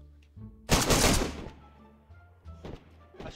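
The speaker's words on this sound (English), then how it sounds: "A shot with a VSD didn't kill him from point blank." Rifle fire from a VSD in the DayZ video game: a single loud, sharp report lasting about a second with a decaying tail, followed later by quieter thumps and rumbling game sounds.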